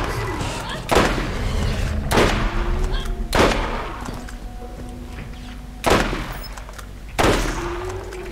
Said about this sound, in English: can I get some distance and shoot him with a sniper?